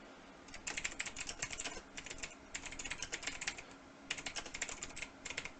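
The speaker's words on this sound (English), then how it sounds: "We can simply click in here, highlight that text, and type in whatever you'd like." Fast typing on a computer keyboard while entering text in a website builder: dense bursts of light clicking keys separated by short pauses, close and fairly quiet, with no voices.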